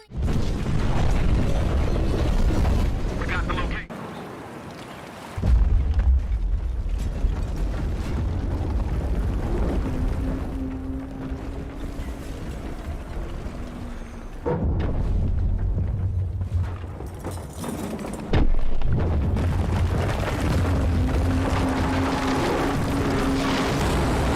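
Buildings are blown apart in a shooter video game. Heavy rumbling booms and roaring blasts come in long loud waves, with brief drops to quieter debris noise between them.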